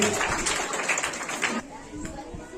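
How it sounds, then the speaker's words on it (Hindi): Clapping for a student at a school farewell ceremony at The Vision Public School, Itkhori: a continuous wash of crowd applause under a voice, easing a little in the final second. "जोरदार तालियां तनु के लिए भी"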